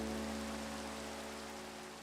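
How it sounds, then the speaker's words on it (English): Steady rain from a Minecraft FNAF build hisses evenly throughout, a dense, constant wash of falling drops with a faint low hum underneath and no voices. "even the rain is different. You guys see that? Look at the rain."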